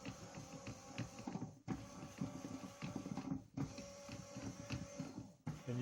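A Gentle Roller felting machine, rolling a large bundle of felt and bubble wrap, runs at higher speed, giving a steady mechanical whirring and rhythmic clunking in repeating cycles broken by brief pauses, fairly quiet and without voices.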